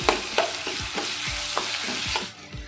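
Ground mango ginger sautés in a pan with curry leaves, a close crackling sizzle with a series of regular stirring strokes and low thumps, and no speech.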